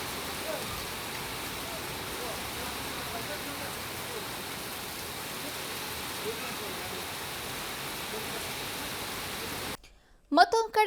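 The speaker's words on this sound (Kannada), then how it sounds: "ಉಡುಪಿಯಲ್ಲೂ ಕೂಡ ನಿರಂತರವಾಗಿ ಮಳೆ ಸುರಿತಾ ಇದ್ದು ಅಬ್ಬರಿಸ್ತಾ ಇದ್ದಾನೆ ವರುಣದೇವ" Heavy, continuous rain pours in Udupi on the coast, a steady dense hiss of rainfall with no break until it cuts off abruptly near the end.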